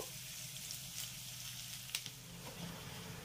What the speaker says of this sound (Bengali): এবার পেঁয়াজটাকেও আমি এই ফোড়নের সঙ্গে হালকা ব্রাউন করে ভেজে নেব